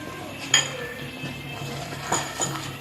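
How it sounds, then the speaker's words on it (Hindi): A spoon scoops sugar and clinks against a pot for raw mango and jaggery chutney, producing a couple of soft metallic taps over a steady low background hum, close and fairly quiet. "मैं 2 चम्मच और शक्कर भर के ले रही हूँ"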